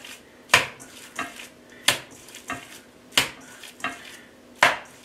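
A ground turkey and tofu patty mixture is smacked against a bowl in six or seven sharp, evenly spaced slaps, each a crisp wet thwack with a short tail, clear and close with no talk.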